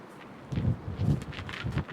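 Strong gusting wind from Hurricane Ian, two hours before landfall at Myrtle Beach, buffets the microphone in low rumbling bursts, with a steady roar between them and no voices.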